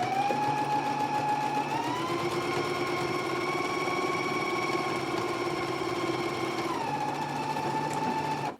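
A sewing machine runs steadily while stitching a skirt seam from Simplicity pattern 8994, producing a continuous close, even whir with a faint shift in pitch partway through before stopping at the end.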